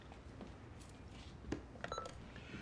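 A voice mimics an answering machine beep with a short, quiet electronic-sounding tone, heard alone with no talking over it.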